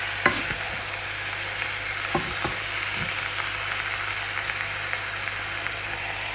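Jamaican chicken curry frying in a pot crackles with a continuous sizzle while a spoon stirs it, scraping and tapping against the pot now and then.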